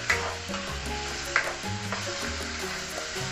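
Chicken asado with oyster sauce is stirred in a hot frying pan, giving a steady close sizzle broken by a few sharp utensil scrapes and clicks, with no talking.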